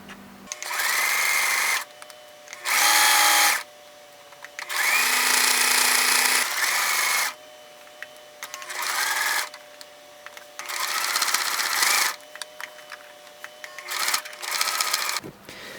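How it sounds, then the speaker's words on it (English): A sewing machine stitches a fabric envelope flap in repeated bursts of steady whirring, each lasting one to three seconds, separated by short pauses, close and loud with no talking. "we're going to sew along these lines"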